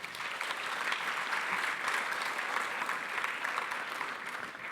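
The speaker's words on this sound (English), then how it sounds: "So give yourselves a round of applause for this." A gala dinner audience applauds steadily in a large room, a dense, even wash of many hands clapping for about five seconds at moderate, slightly distant level, with no voices standing out.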